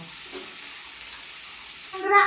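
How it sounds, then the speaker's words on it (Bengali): Potato and carrot pieces fry together in oil in a village kitchen, a faint, steady hiss of sizzling with a brief clatter near the end. "আলু আর গাজর একসঙ্গেই ভেজে নেব"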